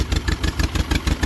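A restored John Deere MV tractor engine runs steadily nearby, its loud, even chugging exhaust pulses repeating about five times a second with no one talking.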